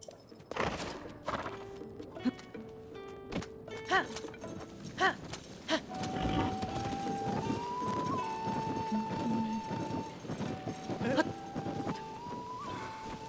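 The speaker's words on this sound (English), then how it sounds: "Horse." Horse hooves clip-clop through Zelda: Tears of the Kingdom, a string of sharp, moderately close knocks set against sustained in-game music tones, with a voice briefly audible.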